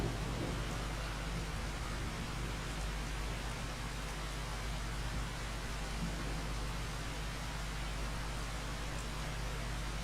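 Steady rainfall in Farming Simulator 25, a dense, even hiss of rain with a low rumbling undertone, constant and unbroken throughout with no talking.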